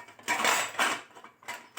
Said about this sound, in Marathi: एक कढई घेते